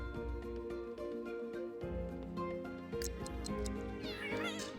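A cat in the video game The Sims 3 meows several times over steady game music and ambience, the cries rising and bending in pitch, fairly clear against the background.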